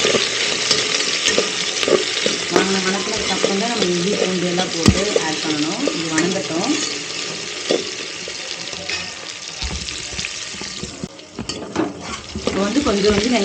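Chopped onions sauté in a pan for a home-style duck curry, a steady close-up sizzle with stirring and scraping throughout, broken by occasional sharper clicks of a utensil against the pan.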